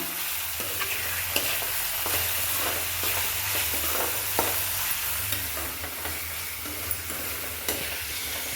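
Onions sautéing with curry leaves and mint in a pan for a Tirunelveli-style coconut milk crab gravy, a steady close sizzle and fry under repeated scraping stirs of a spoon, with no voices.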